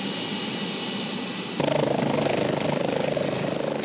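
An air ambulance helicopter in flight, a steady loud rotor and engine roar that shifts partway through into a stronger, pulsing beat, with no talk.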